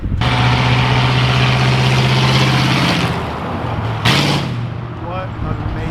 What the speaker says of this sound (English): I love the sound of a V8 with basically open headers.